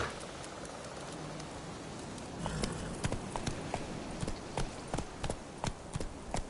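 Hoofbeats of Roach, the horse in the video game Witcher 3: Wild Hunt, start as a steady clip-clop about midway and repeat in an even rhythm over a constant rain-like hiss.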